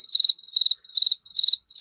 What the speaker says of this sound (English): All we getting is crickets.